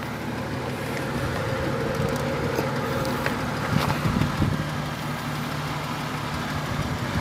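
A car engine runs steadily at idle during an estate auction inspection, a close, even mechanical hum with a faint rattle and a brief louder rev midway.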